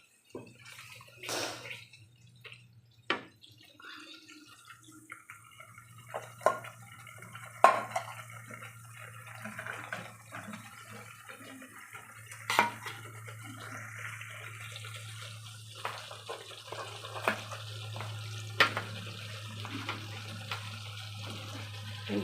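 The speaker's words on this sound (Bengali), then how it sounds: "বাটিটা ধুয়ে একটা ফোঁটা জল দিলাম।" Water runs from a tap while a bowl is rinsed, with intermittent clinks of dishware against the sink over a steady low hum, fairly quiet and continuous.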